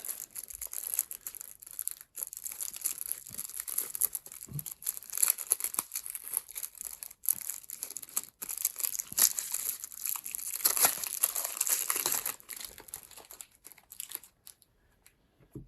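Crinkly plastic foil of a Magic: The Gathering Fallout booster pack is crumpled and torn open close up, a soft, continuous rustling and crackling that fades out near the end.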